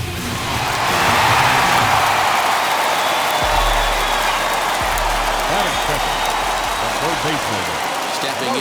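A home crowd roars and applauds after a home run in a baseball video game, a loud, sustained wash of cheering with a commentator's voice talking over it.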